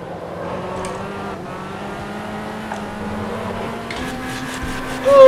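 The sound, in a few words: Fiat Uno race car engine in video game Automobilista 2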